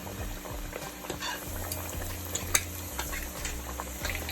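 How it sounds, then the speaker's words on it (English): Plantains fry in a pot of hot oil with a steady, close sizzle, while a utensil stirs and scrapes against the pot and gives occasional sharp clinks. "A plantain fry fast, or it will burn quick."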